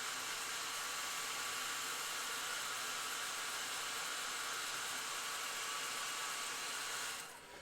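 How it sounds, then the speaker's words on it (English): A hair dryer blowing on wet paint on a Yndrasta miniature, a loud steady whooshing hiss that runs unbroken, then cuts off abruptly near the end. "I'm just using a hairdryer to speed up a bit of the dry here."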